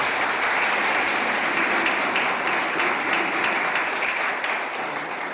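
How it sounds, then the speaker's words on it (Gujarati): A full hall audience at a skills award ceremony in a town hall claps loudly and steadily, a dense even roar of applause that tapers slightly near the end. "એકવાર ખૂબ જોરદાર તાળીઓ થવી જોઈએ"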